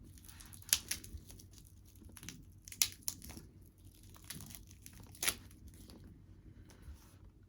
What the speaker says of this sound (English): Let me unwrap the dial so we can see the dial.